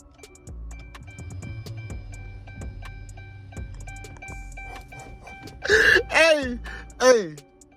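A Hellcat fuel pump fitted to a 5.7 Charger running E85 primes with a faint, steady electric whine inside the car, while voices talk over it near the end.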